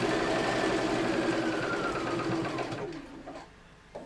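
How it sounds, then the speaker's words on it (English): A sewing machine stitches fabric onto a bottom piece, a steady fast mechanical whir close up that slows and stops toward the end. "we're just sewing it to the bottom piece"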